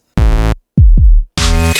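Short snippets of a song: three loud, separate bursts of pitched sound with abrupt cuts and brief silences between them, the last one bright and noisy.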